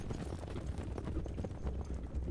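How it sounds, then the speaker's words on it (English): Hooves of hundreds of horse riders crossing the steppe form a dense, unbroken drumming clatter, steady and fairly faint, with no pauses throughout. "he sees hundreds, maybe thousands of horse riders"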